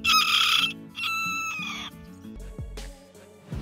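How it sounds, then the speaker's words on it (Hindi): A tiny Malaysian chicken breed, no larger than a pigeon, gives a shrill, close crowing call in drawn-out bursts, followed by a few short clucks and scuffling sounds. "अब आपको दुनिया की सबसे छोटी मुर्गी दिखाते हैं।"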